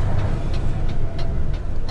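A Mercedes truck rolls onto the autobahn, its engine and road noise droning loudly and steadily with faint regular ticks over the top.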